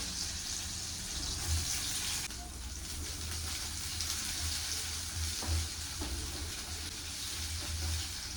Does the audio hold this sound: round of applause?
no